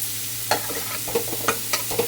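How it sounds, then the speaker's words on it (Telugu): Onions frying and being stirred in a pan for egg and prawn curry: steady sizzle with several sharp spoon scrapes and clinks spread across the short stretch, close and moderately loud, no talking. "బాగా వేగనిద్దాం ఆనియన్స్. చూడండి ఉల్లిపాయలు వేగాయి ఫ్రెండ్స్."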